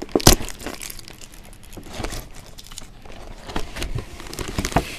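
Crinkly gift paper being unwrapped and torn open, with repeated close crackling and crumpling bursts and a few sharper tearing rips over about five seconds.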